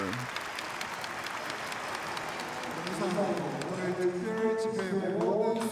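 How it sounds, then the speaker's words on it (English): Applause from the crowd at a special religious gathering marking an anniversary, steady clapping that swells as music or voices rise beneath it partway through. "Let us give another round of applause to our victorious True Mother."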